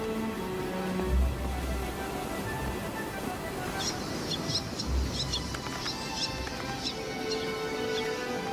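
White-tailed tropicbirds call from sea cliffs on Ascension Island. Shrill, whistle-like cries come in scattered bursts from mid-distance, layered over a constant wash of seabird colony noise.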